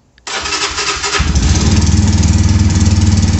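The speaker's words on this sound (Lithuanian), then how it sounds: "Pabandysiu aš jums užvesti motociklą ir" Brixton Cromwell 125 cc motorcycle cranked by its starter: about a second of whirring, then the engine catches and settles into a loud, pulsing idle, close by.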